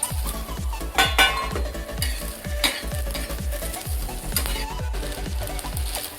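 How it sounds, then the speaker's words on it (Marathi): Garlic and cumin roast in hot oil in a pan while making peanut chutney, giving a steady close sizzle broken by a quick, regular rhythm of scraping stirs and light pan clinks. "आता लसूण पण थोडासा हलका भाजून घ्यायचा आहे आणि जिरे."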